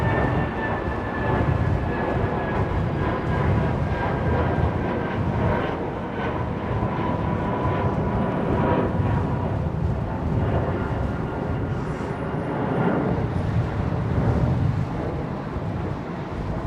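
A steady, broad jet roar from an airliner departing London Heathrow Airport, a continuous loud rumble sustained throughout with slow swells, outdoors and somewhat distant.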